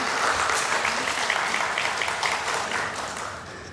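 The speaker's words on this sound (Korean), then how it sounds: "우리 함께 박수 한번 할까요?" An adult Bible school congregation at a Sunday church service claps together, heard as dense, steady applause throughout.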